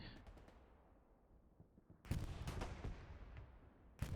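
Artillery shells land during a Hell Let Loose match. Two sharp, loud explosive blasts, one midway and one at the end, break through a low, rumbling battlefield background, with a softer stretch of distant noise before them.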